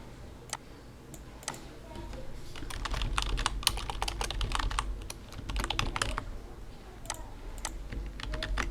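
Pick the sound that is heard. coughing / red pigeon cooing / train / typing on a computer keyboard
typing on a computer keyboard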